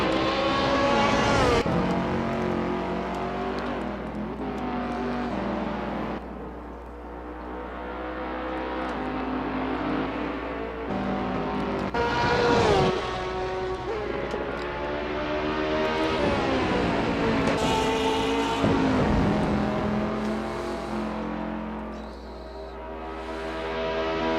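Race cars roar around Bathurst in Gran Turismo, engines revving and shifting as several cars pass close by in waves, loud and continuous with no talk.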